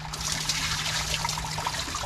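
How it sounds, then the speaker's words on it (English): Water is dumped out of a frozen pondless-waterfall check valve, a short splashing trickle and pour with a faint low hum beneath, close and brief with no talking. "Dump that water out."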